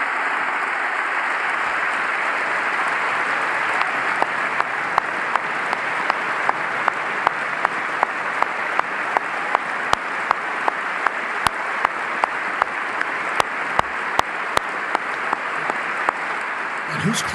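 Applause in the chamber during the 2018 State of the Union address, a broad steady wash of clapping from a large crowd, with one person clapping sharply and repeatedly right beside the microphone, loud and close, as voices talk over it.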